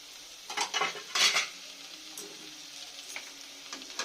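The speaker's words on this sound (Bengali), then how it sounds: "দিয়ে আমি ভালো করে মশলাগুলো কষে নেব" Spices with green chilli paste for mutton being stir-fried, a few scraping clinks of a spatula against the pan followed by softer stirring and a faint sizzle.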